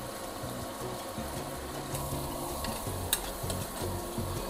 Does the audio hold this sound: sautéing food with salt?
yes